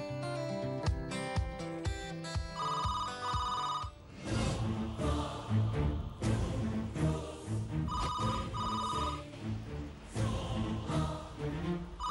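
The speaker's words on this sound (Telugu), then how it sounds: "ఫోన్ రింగ్ అవుతుంటే టెన్షన్గా ఉంది." A telephone rings in a household scene from a Telugu TV serial, with short repeated electronic ring bursts heard twice among dramatic background music.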